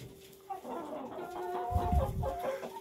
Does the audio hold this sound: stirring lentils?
no